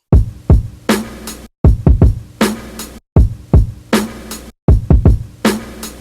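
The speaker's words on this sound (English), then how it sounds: "So once I put the drum chops along with that extra kick, they both sound like this." Chopped drums from a jazz sample, layered with an extra kick, cycle as a loud hip-hop loop: repeating four-bar-like patterns of thumping kicks, snappy hits and brief sustained tones, each phrase cut off sharply before restarting.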